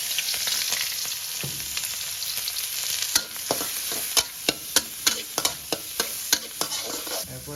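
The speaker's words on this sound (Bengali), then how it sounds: "এখন আমি আবার তেলটাকে গরম করে ওইখানে আমার পেঁয়াজ মরিচ রসুনটাকে ভাজতে হবে।" Onion, chili and garlic fry in hot oil with a steady close sizzle, while a utensil stirs and scrapes the pan in a series of sharp, regular knocks.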